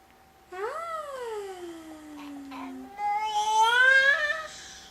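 A child imitating a cat, giving a long drawn-out meow followed by a higher, wavering second meow, close and clear against a quiet room.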